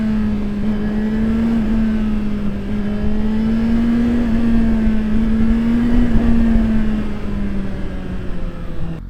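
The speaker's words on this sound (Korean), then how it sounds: "이렇게 아름다운 배기 소리가 있는데 누가 크로스 플레인 엔진을 타겠어." A loud, close four-cylinder Suzuki GSX-R1000R sport motorcycle exhaust holds a smooth, steady drone with slight rises and falls in pitch, running continuously without any talking.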